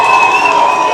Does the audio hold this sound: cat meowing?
no